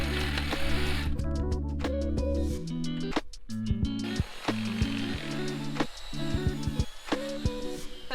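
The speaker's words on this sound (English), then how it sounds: "I'll come back and finish it off with the Sawzall." A Sawzall reciprocating saw cuts through wooden deck posts in close, loud, uneven bursts of buzzing strokes that stop and restart several times.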